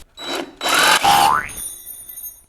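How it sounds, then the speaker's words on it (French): A jigsaw cuts into wood while building a cheap wooden bed frame, giving two loud, brief buzzing bursts, with a rising whine as the blade slips, followed by quiet. "Pour ça, on va le faire avec la scie sauteuse"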